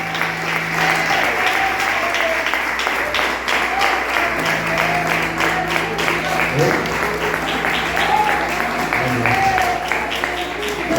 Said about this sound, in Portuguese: Missionário Genivaldo, receba com palmas para o Senhor.